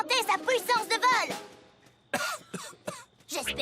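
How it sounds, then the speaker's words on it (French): A cartoon pegasus pony named Thunderlane coughs in a few short bursts after a stretch of animated speech, with other voices around the coughs. "J'espère que tu tousses à cause d'un grain de popcorn"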